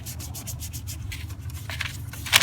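Hand sanding of rusted car body repair with 320 grit paper, a soft rhythmic rasping of repeated strokes over a low background hum, fairly quiet with a sharper scrape at the end, no talk.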